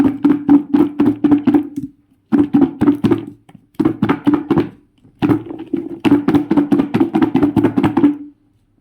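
Jamun fruit shaken with salt inside a lidded container, a rapid rattling thump repeated in four bursts with brief pauses, loud and close.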